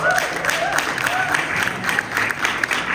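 A room of attendees at a 2025 DNC AAPI caucus meeting breaks into brisk, close applause that sustains throughout, with a few voices faintly mixed in underneath.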